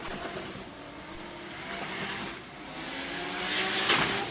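A Nissan S13 drift car holds on the rev limiter at a Drift Kings Asia Cup round in Malaysia, a continuous loud, buzzing engine roar that swells toward the end, heard from a distance across the track.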